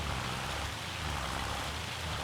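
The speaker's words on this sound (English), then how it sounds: "This hail's mad, isn't it?" Hail hammers down steadily in a farming video game, a dense, even hiss of countless tiny impacts that holds at a constant level throughout, with no voices.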